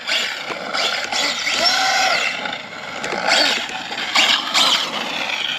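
Limitless 12S RC car with a Castle motor and solid rubber tires popping a wheelie, a high electric whine rising and falling in surges of acceleration, moderately close.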